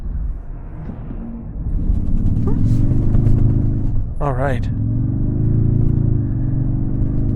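Toyota Tundra Capstone hybrid pickup accelerating in sport mode, a steady, close engine rumble building from inside the cab, with a brief remark from the driver partway through.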